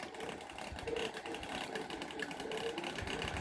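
A wire feed welder lays down tack welds on a 2008 Pontiac G6 panel, giving a continuous close crackling buzz that holds steady throughout.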